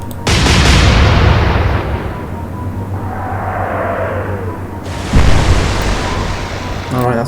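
A heavy naval gun salvo from the warship game Atlantic Fleet roars loudly and rumbles away, a shell whistles through the air, and a second explosive crash follows near the end, with faint crackling clicks at the close.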